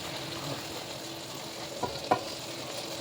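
Avarekalu (field bean) palav rice stirred in a pot over a low flame: a faint, soft scraping with a couple of brief clinks against the pot, quiet and close, with no talking.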